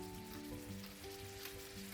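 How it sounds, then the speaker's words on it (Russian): Halved chicken breasts fry over medium heat in a pan with oil, a faint steady sizzle heard throughout without any talk. "Обжариваем курицу на среднем огне до золотистой корочки."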